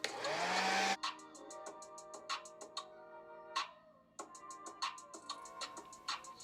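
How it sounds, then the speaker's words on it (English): A blow dryer on its low setting roars loudly for about a second at the start, then cuts off, leaving quieter ticking and faint tones. "Now I'm going to take my blow dryer on low"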